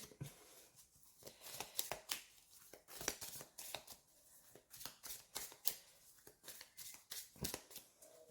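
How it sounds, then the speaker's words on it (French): Tarot cards shuffled by hand, a quick run of crisp riffling and slapping bursts repeating close and quiet, with no talk over them. "Je vais encore tirer quelques cartes, quelques messages."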